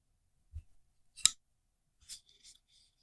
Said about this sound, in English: Sounds good on closing as well.